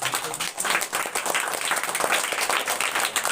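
Students applauding at a prize distribution at a residential school in Jharkhand, a dense burst of many hands clapping, loud and sustained with uneven, crackling rhythm throughout.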